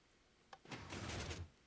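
A Minecraft redstone dungeon door mechanism triggered by a pressure plate: a short click followed by a quick sliding, grinding whoosh lasting under a second, quiet and alone.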